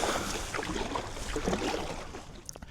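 A packraft paddled on archipelago water: soft irregular splashes and gurgles of paddle strokes, faint and close, over a low rushing background of wind and water.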